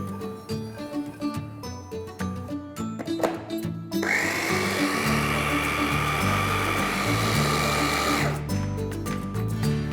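An electric kitchen chopper grinds cashew nuts, green chilies, mint leaves, coriander leaves and sautéed green peas, a loud steady whirring motor running for about four seconds before stopping abruptly.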